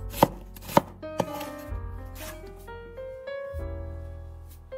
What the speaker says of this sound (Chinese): 再来切半个洋葱